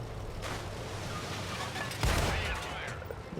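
An M24 light tank fires its gun in World of Tanks on console: one booming shot with a low thump partway through, over a steady rumbling background.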